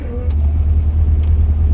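A car engine fitted with individual throttle bodies idles with a steady low rumble close by inside the cabin, with no clear revving, while people talk briefly.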